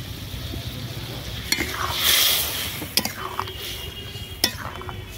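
Water splashes into a hot pan of sautéed spices and vegetables for a Bengali fish curry, producing a broad rush of hiss and sizzle around the middle, with scattered clinks of a spoon against the pan.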